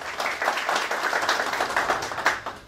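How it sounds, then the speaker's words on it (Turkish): Steady applause from a crowd at a community breakfast, many hands clapping continuously at moderate volume, no voices. "güçlü bir alkış istiyoruz"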